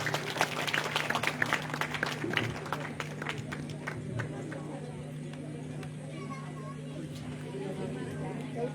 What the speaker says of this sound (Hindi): जोरदार ताली एक बार महिला मंडल के श्लोक के लिए